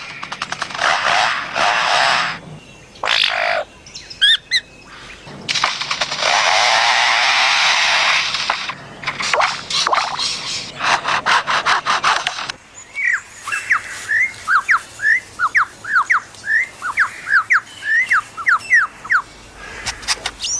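A bird mimics the chainsaws of foresters working nearby: bursts of buzzing, revving drone with a harsh mechanical edge, then a run of rapid, rhythmic whistled chirps, loud and close.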